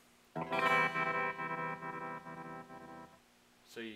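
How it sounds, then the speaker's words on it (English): A homemade optical tremolo guitar effect pedal set to slow speed, a sustained distorted guitar note pulsing in steady rhythmic swells for about three seconds before fading out. "so you kind of hear it's da-da-da in Morse code terms."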